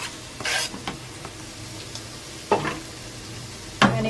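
Garlic and mushrooms sizzling in a pan for chicken fettuccine Alfredo, a quiet steady frying hiss punctuated by a few sharp scrapes and clacks of stirring, close and without speech.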